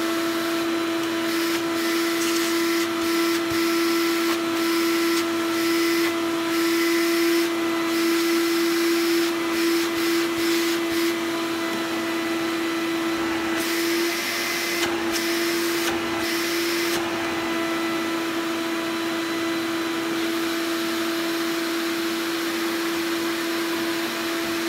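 A vintage Dr. Nilco Fakir commercial upright vacuum cleaner runs steadily and loudly with a constant motor whine and airflow hiss, heard on its own.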